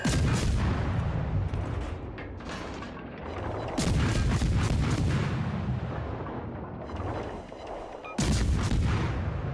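Destroyer guns firing in a naval video game, heard as loud repeated artillery booms in dense bursts with rumbling blasts, and no talking.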